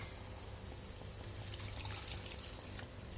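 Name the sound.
water poured into a pot for miki soup with patola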